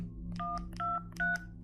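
Telephone keypad dialing tones, several distinct beeps of differing pitch in an uneven sequence, clear over a low steady hum, with no voices.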